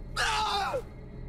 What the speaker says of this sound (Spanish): su quejido se convirtió en un penetrante alarido de dolor